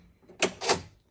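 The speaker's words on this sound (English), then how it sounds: "I can press down the lock." The lock on a Volvo V70 driver's door is pressed down, giving two short plastic clacks close together and then a faint third click, near and with no voices.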